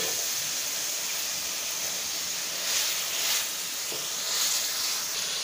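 Beef slowly frying in a karahi for a Shinwari-style karahi, giving a steady close hiss and sizzle throughout with a few brief louder crackling swells.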